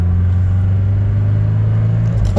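A Mercedes W123 E240 diesel car accelerates at full throttle, a loud, steady low droning engine note heard from inside the cabin, briefly with no talk.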